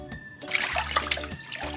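Water splashes and trickles in a golden retriever puppy's bath, giving short close sloshing bursts.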